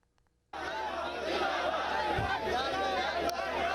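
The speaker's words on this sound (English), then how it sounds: "Crowds rallied in the streets of Pakistan, both in favor and against the country's Prime Minister, Imran Khan" Street crowds rallying in Pakistan for and against Prime Minister Imran Khan: a dense roar of chanting and shouting voices starts abruptly after a brief quiet moment and stays loud and steady throughout.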